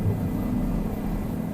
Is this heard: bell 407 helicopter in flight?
yes